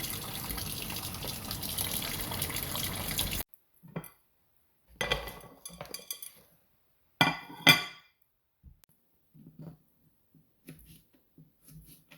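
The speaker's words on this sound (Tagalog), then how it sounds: "dahil mainit ang kawali, nugasan ko muna" Water gushing into a hot frying pan being rinsed in a home kitchen sink, a steady loud pour for a few seconds, then scattered clinks, splashes and scraping of the pan.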